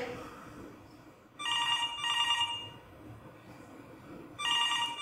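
A telephone rings in repeated bursts, loud and close, with pauses of quiet room noise between the rings.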